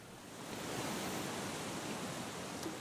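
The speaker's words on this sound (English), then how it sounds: "listen to the wind blow through those newly evolved trees" Wind blowing through trees makes a steady, soft broadband rush, faint and even, rising slightly after a moment and holding without other sounds.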